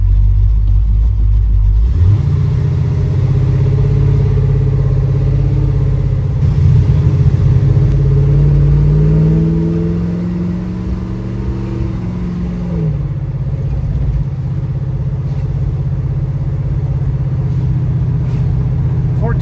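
A 1971 Oldsmobile Cutlass with a new engine idles steadily, then revs up with a rising, wavering pitch before settling back to a low rumbling idle; nearby and loud.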